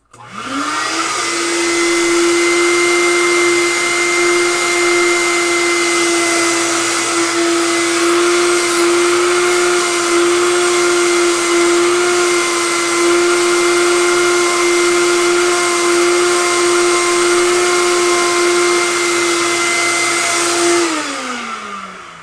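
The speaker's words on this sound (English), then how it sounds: "Vacuum." A vacuum cleaner runs steadily for about twenty seconds, switching on with a rising whine and holding a loud, even drone before winding down at the end, with no talking over it.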